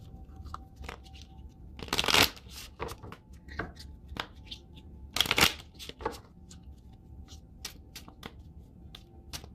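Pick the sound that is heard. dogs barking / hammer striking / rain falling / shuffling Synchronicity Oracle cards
shuffling Synchronicity Oracle cards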